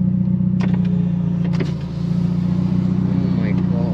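A Mitsubishi Evo X with an open dump valve and a big turbo idles with a heavy, loud, steady low rumble close by, with a brief dip in the drone midway.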